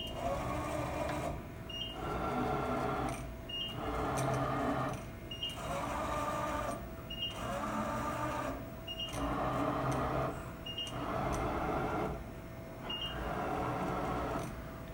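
A machine mills a circular pocket, cutting in regular bursts of whirring separated by short pauses, with a faint high tick marking each pass, steady and moderately quiet throughout.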